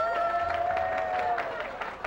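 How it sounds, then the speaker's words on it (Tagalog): Studio audience applause on a Filipino comedy game-show stage, a steady wash of clapping and light crowd noise with a sustained musical tone running beneath for about two seconds. "Hoy, palakasan niyo naman yung palakpak!"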